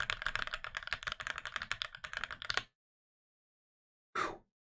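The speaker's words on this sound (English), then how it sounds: "All right, are you guys ready for this typing test?" Rapid continuous typing on a TX87se mechanical keyboard fitted with lubed Alpaca linear switches, close and clear for over two seconds, then silence and one short final burst of keystrokes.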